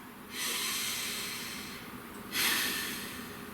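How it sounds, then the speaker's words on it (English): A deep breath drawn in and let out, two long airy rushes close to the ear, the second louder, alone with no talk. "Breathe."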